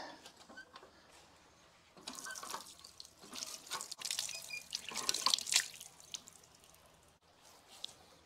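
Fresh water running and splashing at a holy spring at Agios Sozon on Lemnos, right beside the sea, a soft steady trickle that swells into louder splashing for a few seconds before easing back, heard close with no talk.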